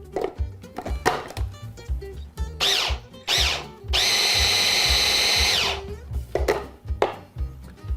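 A kitchen food processor chops onions in a small batch, giving a loud whirring burst of a couple of seconds amid clunks, knocks and handling noises, with brief spoken bits around it.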